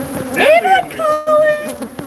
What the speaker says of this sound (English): this is a wild hive in a cupboard